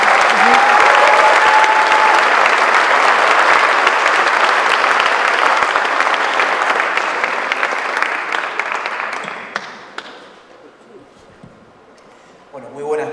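A crowd at a talk organised by the Movimiento Hispano de América bursts into loud, sustained applause with some cheering, holding strong for about eight seconds before thinning to scattered claps and quiet, then a voice begins speaking.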